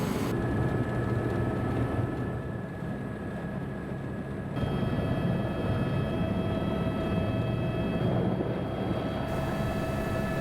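A sightseeing airplane takes off on an early-morning flight toward the canyon, a steady, loud engine drone with constant rushing noise filling the cabin throughout, no voices.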